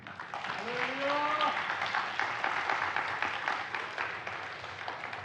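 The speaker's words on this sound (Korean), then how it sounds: "이 시간 성사님 나오실 때 우리 큰 환영의 박수로 우리 한번" Church congregation in Chuncheon applauds to welcome an Indonesia missionary at a Friday prayer meeting; steady moderate clapping fills the room while a voice briefly speaks over it near the start.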